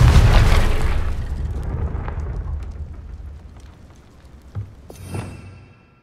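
A heavy Confringo spell explosion in Hogwarts Legacy on PS5 booms loudly and then slowly rumbles away, followed by two smaller crackling bursts before it fades out.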